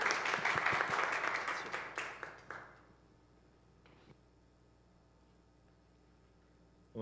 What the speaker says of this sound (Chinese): 我们一起拍手来欢迎